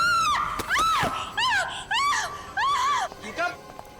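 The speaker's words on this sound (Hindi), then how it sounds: "क्यों चिल्ला रही हो?" A woman screams in a series of sharp, rising-and-falling shrieks, five or six loud bursts separated by brief gasps, close and dominating over a noisy background.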